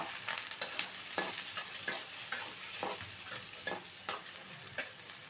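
Potatoes and eggs fry in hot oil while a utensil stirs them, giving a steady close sizzle with regular scraping strokes.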